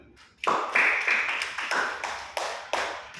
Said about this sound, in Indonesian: Tepuk tangan untuk Ram dulu.